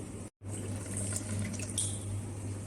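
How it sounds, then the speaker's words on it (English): Water flowing through a uniform tube and a Venturi tube in a physics demonstration, a steady rushing hiss broken by a brief dropout near the start, with a low hum running underneath. "we're not getting a steady flow of water, possibly because of the water source"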